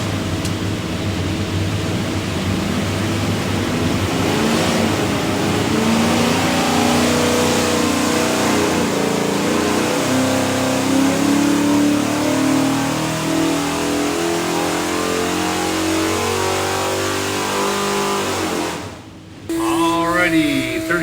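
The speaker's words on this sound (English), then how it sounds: "Here's your 408 small block Ford." A 408 cubic-inch small block Ford stroker V8 with a custom hydraulic roller cam and front sump pan, built for a '68 Mustang, roars loudly on an engine dyno, climbing steadily through a long sustained pull before cutting off abruptly near the end.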